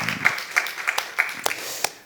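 A church congregation at a Wednesday worship service claps in praise: a handful of distinct, fairly regular claps about a third of a second apart, with a faint voice underneath.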